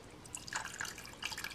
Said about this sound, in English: I'm gonna pour some blue glaze on it.